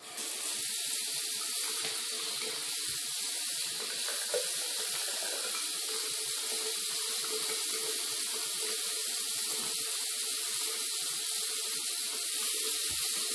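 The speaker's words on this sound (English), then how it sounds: "we've got the water running full force" Water from a bathroom sink tap runs at full force and drains steadily, a constant loud hiss and rush that stays even from start to finish.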